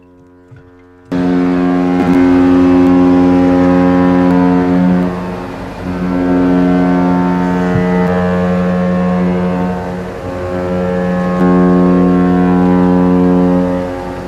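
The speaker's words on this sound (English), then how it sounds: "That's some excellent honking there from Norwegian Prima" Norwegian Prima cruise ship's deep horn blasts loud and sustained for about thirteen seconds after a short quiet lead-in, its steady harmonic drone dipping briefly midway before resuming.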